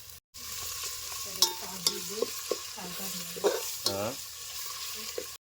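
Mutton being stirred in a hot pan sizzles steadily, with scraping and clanking stir strokes at close range and a few brief voice sounds in between.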